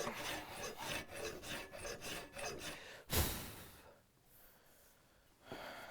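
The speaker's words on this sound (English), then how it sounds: "So now I'm just going to go ahead and start draw filing it." A hand file is draw-filed along a wrought iron door bolt, giving about three seconds of steady rasping strokes in a rhythmic back-and-forth. One sharp knock follows, then quieter scraping and a final short stroke, with no talk.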